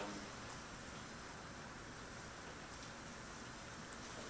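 Rain in a Crysis 2 environment running on CryEngine 3, a dense uniform hiss of falling water that stays constant throughout without any voices.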